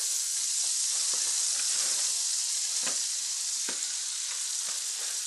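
Green onion cake browning in butter in a pan: a steady, bright sizzle throughout, with a few soft pops and scrapes of stirring, close and continuous with no talking.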